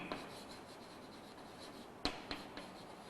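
Marker or chalk writing on a board during a geometry lesson, faint steady scratching strokes punctuated by a few sharp taps, close and quiet with no voices.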